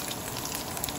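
Garlic sizzling in a hot pan with smoked bacon, a steady close crackle and hiss with no pauses throughout the short stretch.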